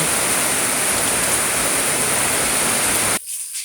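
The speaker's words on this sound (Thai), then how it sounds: "ฝนตกพี่น้องฝนตก ฝนตกพี่น้องเลย ตกฝนตกแล้ว" Heavy rain falling outdoors, a loud, uniform roar of downpour that cuts off abruptly near the end, with no talk.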